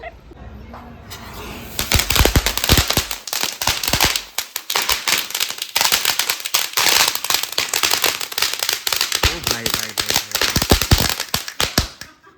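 Diwali skyshot fireworks and firecrackers burst in a loud, dense volley of sharp cracks and pops that crackle on and off, with faint voices in the background.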